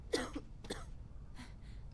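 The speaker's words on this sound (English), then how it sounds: "Why is everyone got a fucking cough?" A couple of short, muffled coughs from a character in a Steam video game, faint over a low background hum.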